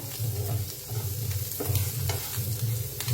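An onion mixture with turmeric, the filling for Mysore dosa, sizzles in a hot pan while a spoon stirs it in repeated scraping strokes, close and continuous, without speech.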